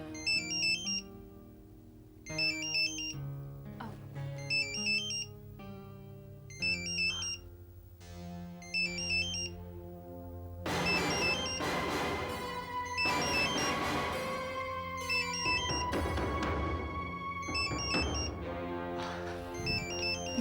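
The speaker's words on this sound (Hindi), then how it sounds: "तुम्हारा फोन बज रहा है, आंसर क्यों नहीं कर रहे?" A phone ringtone plays loudly in repeating melodic bursts with short gaps, then continues over fuller background music.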